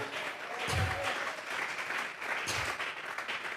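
A church congregation claps together in steady, continuous applause as an offering of praise during a Spanish-language service, filling the room at moderate loudness.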